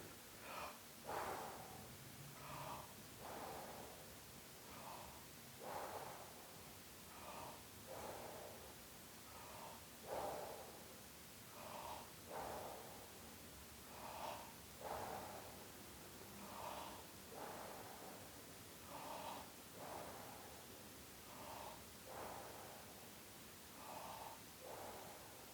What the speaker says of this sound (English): just do the Wim Hof breathing.